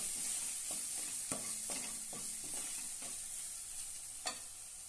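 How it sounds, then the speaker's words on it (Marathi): Garam masala being sautéed in a pan for a dry bitter gourd (karela) stir-fry, with a steady soft sizzle under scattered spoon scrapes and taps against the pan. "अर्धा चमच गरम मसाला छानपैकी परतून घेऊया"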